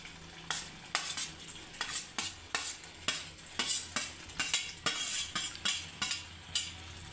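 Shelled beans stirred into a ground masala paste in a pan, a spoon scraping in regular strokes roughly twice per second over a continuous frying sizzle, close up.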